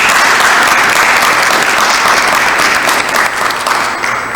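Applause from a press-conference audience gathered to introduce a new women's basketball head coach forms a dense, loud, sustained wash of clapping that tapers slightly toward the end.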